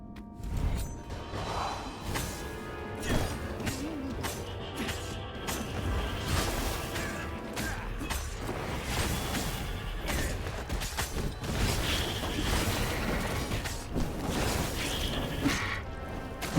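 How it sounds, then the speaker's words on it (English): Objects being smashed in the video game Stories: The Path of Destinies, a dense run of crashes, whooshes and creaking impacts over a steady game soundtrack, continuous and fairly loud throughout. "Smashing things was fun."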